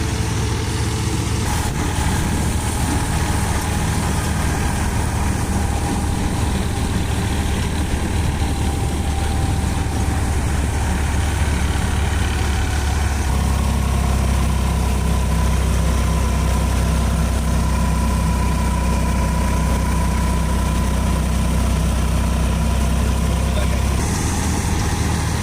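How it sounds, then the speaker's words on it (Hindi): A Massey Ferguson 9500 tractor runs with a reaper in low second gear, cutting light wheat stubble, its heavy diesel drone steady and close throughout, with a shift in tone midway and faint talk underneath. "बहुत अच्छी तरह से सफाई के साथ ट्रैक्टर चल रहा है,"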